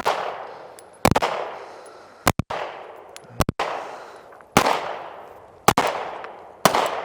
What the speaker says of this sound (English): fully extend your strong arm, and continue firing